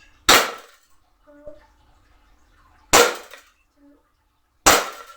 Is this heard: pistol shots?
yes